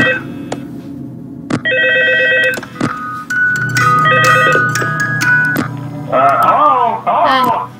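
A telephone rings in a FNAF 2 game map with repeated electronic tones in short bursts, interspersed with sharp clicks and a person talking over it.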